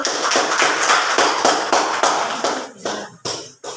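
A classroom claps for group 4 after its presentation: steady, dense applause that thins into a few separate claps before fading out.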